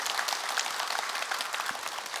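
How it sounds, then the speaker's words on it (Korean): Applause from a temple congregation thanking donors during a dharma talk, brief and fairly quiet, a dense patter of many hands clapping at an even level throughout. "시주 하신 분들에게 다 큰 박수 좀 부탁드립니다"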